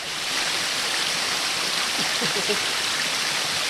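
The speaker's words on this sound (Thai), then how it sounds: "อยู่ที่จังหวัดลำปาง น้ำตกทัศเด็จนะครับ" Phra Sadet waterfall in Lampang, Thailand, pouring into a deep green pool, gives a steady, close, full-bodied rush of water that holds constant throughout.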